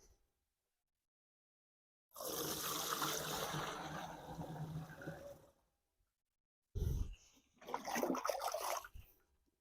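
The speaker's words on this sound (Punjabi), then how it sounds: "ਸਟਾਰਟ ਕਰਕੇ ਦੇਖ ਲਿਆ ਆਪਾਂ ਪਹਿਲਾਂ ਪੰਪ ਚੱਲਦਾ" A sprayer pump runs with water in a field of wheat on a cold day, giving a rushing, hissing spray for a few seconds, then a pause, then a second louder burst with thumps and gushing.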